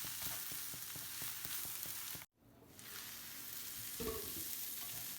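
Cabbage and green peas fry with green chillies sizzles steadily in a pan, close and constant, with regular scraping stirs early on, a brief cut of silence midway, then continued frying hiss.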